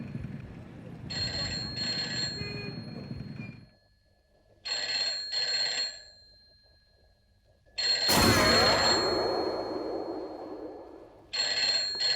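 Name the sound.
telephone ringing at a police station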